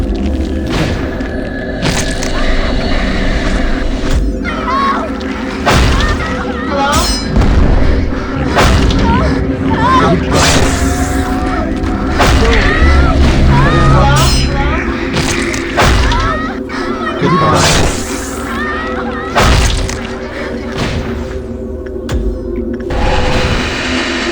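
Repeated heavy booms and thuds from a cannon-like weapon fire in the video game Lobotomy Corporation, dense and loud, layered over a busy game soundtrack with scattered impacts throughout.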